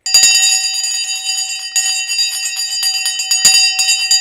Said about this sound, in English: has rung the bell this morning